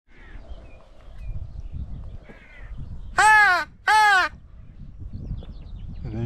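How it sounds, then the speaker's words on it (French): A carrion crow over a field of maize seedlings gives two loud, close caws in quick succession against a quiet outdoor background. "Là, une belle corneille en plus."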